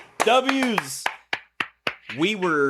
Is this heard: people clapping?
yes